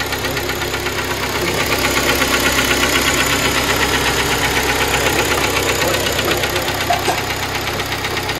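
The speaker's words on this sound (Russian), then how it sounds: "Сейчас вы услышали звук работы этого двигателя" A Kia Sportage G4KD engine with a knocking fault runs with the hood open, giving a steady close idle with a rapid metallic ticking knock throughout, with no talk over it.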